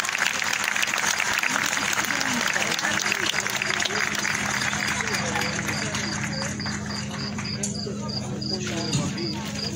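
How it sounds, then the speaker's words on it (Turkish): Audience applause at a documentary gala night and award ceremony: dense, sustained clapping from a large crowd that fills the room for nearly ten seconds, thinning slightly toward the end. "sevgi ve saygıyla alkışlarınızla uğurluyoruz"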